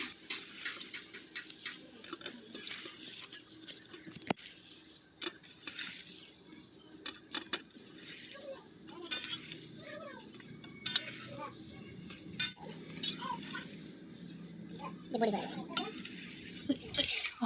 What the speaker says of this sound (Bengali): হাত দিয়ে হালকা করে নিম পাতাগুলো একটু গুঁড়ো করে নিয়েছি